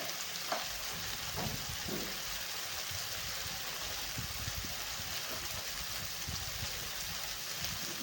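Tomato and spices fry in hot oil, a steady close sizzle with scattered soft stirring knocks and faint bubbling throughout, no voices.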